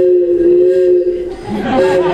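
Three PVC pipe reeds sound together in a steady, loud chord like a train whistle, holding for about a second before the pitches waver and shift, with breathy noise building toward the end.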